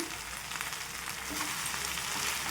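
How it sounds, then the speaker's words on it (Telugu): Gongura leaves fry in a pan for catering-style gongura chutney, giving a steady, close, bright sizzling hiss with faint stirring and no voices. "ఇది మొత్తం కూడా వేయించాలండి, బాగా ఉడికేంత వరకు వేయించి"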